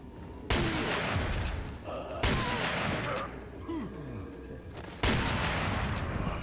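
Three loud shotgun blasts from Resident Evil 4 come roughly two seconds apart. Between the shots, enemies groan and call out, and the booming shots stand out sharply over them.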